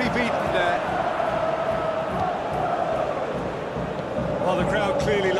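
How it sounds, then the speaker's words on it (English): Football stadium crowd at Porto vs Manchester United in the Europa League, a broad steady roar reacting to a defensive play, with a commentator's voice carried over it. "The crowd clearly like what they just saw."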